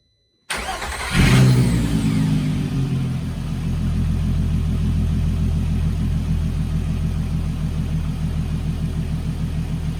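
A VR6 3.2 engine in a Volkswagen Caddy MK1 with a performance exhaust starts up close by, flaring loudly at first, then settling into a steady, deep, throbbing idle that runs alone to the end.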